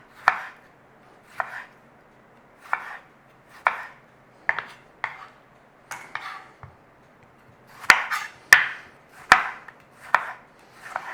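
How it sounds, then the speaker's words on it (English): A knife slices through tomatoes on a cutting board in a home kitchen, giving steady evenly spaced chops that grow sharper and louder toward the end, close up with no talking. "We're going to slice the tomatoes now."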